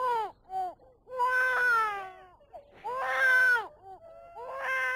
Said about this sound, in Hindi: बच्चा रो रहा है खान साहब।